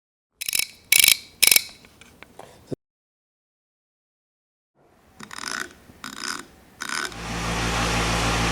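A restored Craftsman BE ratchet clicks sharply up close in two loud bursts of three quick sweeps, separated by silence. A steady rushing noise follows at the end.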